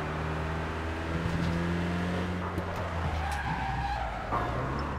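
A car in the video game APB Reloaded drives and skids, its engine droning steadily under a sustained tire screech that rises and shifts over five seconds, with no talk.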